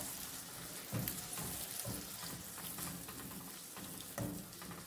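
Chicken liver (kaleji) fries in a pan for a masala dish, giving a soft, steady sizzle with a few louder crackling bursts. It stays fairly quiet throughout, with no voices.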